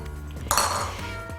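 Cold butter cubes dropped into a mixing bowl for a bourbon apple crisp, a quick bright clatter against the bowl followed by a few soft knocks, close and alone.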